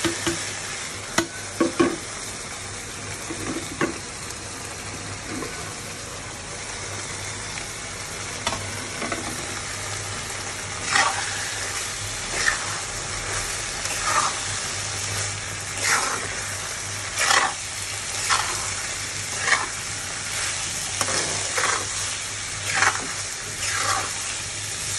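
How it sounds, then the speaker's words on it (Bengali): Meat frying in a pan as spices, bay leaf and garam masala are added and stirred, a continuous sizzle with repeated stirring and scraping strokes throughout. "এবার আমি মাংসের মধ্যে উপকরণগুলো দিয়ে দেবো।"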